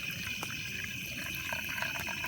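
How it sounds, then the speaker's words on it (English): Water poured and strained through a filter outdoors in the wild, a steady trickling, splashing flow running close and continuous throughout without talk. "I'm just straining the water."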